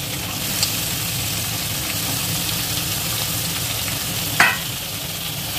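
Sliced onions and capsicum fry in a pan for Schezwan chicken fried rice, giving a steady close sizzle with stirring. Two sharp utensil clinks stand out, one early and one louder near the end.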